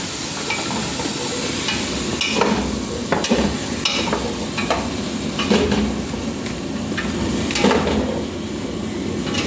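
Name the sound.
fish bagoong added to frying pan, stirring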